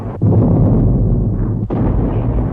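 A heavy artillery bombardment of a World War I French front line: continuous deep rumbling booms from massed guns, loud and sustained, briefly dipping twice before rolling on.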